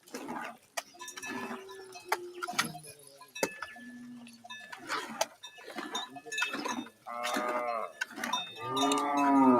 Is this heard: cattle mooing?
yes